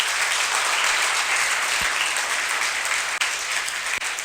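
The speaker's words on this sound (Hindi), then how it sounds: "इस बच्चे के लिए ताली बजनी चाहिए" An audience in a college career guidance class applauds a student, a dense, steady wash of clapping from many hands that continues evenly throughout.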